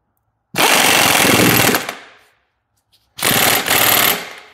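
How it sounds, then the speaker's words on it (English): An impact wrench with a 15/16 socket runs down a hydraulic cylinder piston nut in two loud, close bursts of rapid hammering, the first about a second and a half long and then fading out, the second shorter after a pause. "Back to the impact and 15/16 socket."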